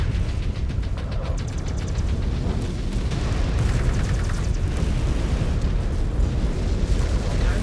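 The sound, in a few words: mech destroyed explosion in a video game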